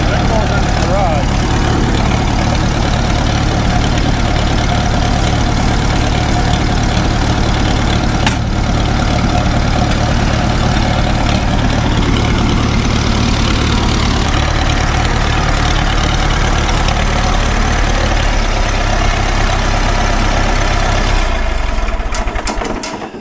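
A Farmall 350 diesel tractor engine runs in snow during a cold start, a loud, steady low rumble that idles continuously for over twenty seconds before cutting off near the end.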